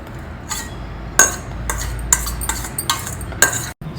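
Washed, drained poha being moved into a bowl, with a spoon scraping and several bright metallic clinks of utensils against the dish at an uneven pace, close and clear.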